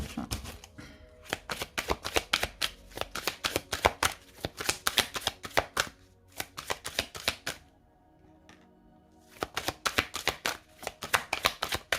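A deck of tarot cards is riffled and cut over and over in a rapid, crisp flutter of snaps, close and loud, with a brief pause near the middle before the shuffling starts again.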